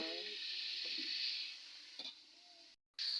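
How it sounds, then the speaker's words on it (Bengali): Vegetables for an egg curry with potato and eggplant get stirred in a pan, making a quiet, steady sizzle with a few soft spatula knocks and a short dropout near the end. "এবার সবজিগুলোকে ভালোভাবে নেড়ে চেড়ে নেব"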